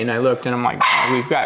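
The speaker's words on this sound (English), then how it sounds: "that's our dog. I don't know if our microphones picked that up." A household dog barks at home, with several short, loud barks in quick succession up close while a person talks over them.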